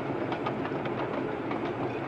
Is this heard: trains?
yes